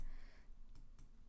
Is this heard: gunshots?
no